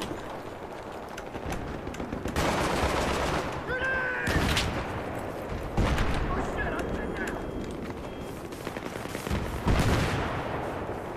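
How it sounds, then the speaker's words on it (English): Rapid gunfire crackles through a Battlefield 3 match, with dense, sustained volleys and heavier bursts layered under voices talking throughout. "I'm being shot at."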